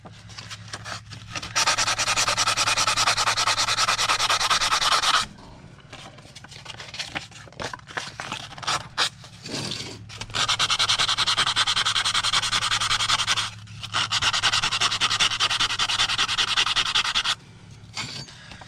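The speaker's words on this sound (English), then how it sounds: "So we keep sanding this until we get rid of all the horizontal lines." Hand sanding makes a close, loud, steady rasping rub in long passes. Several seconds of sustained scraping give way to shorter irregular strokes, then resume in long continuous runs.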